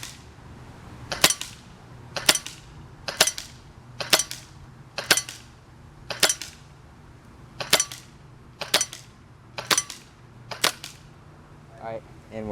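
Walther P99 DAO CO2 airsoft pistol fires eleven sharp, evenly spaced shots at a target, each a crisp snapping pop about a second apart, close and loud over a quiet background.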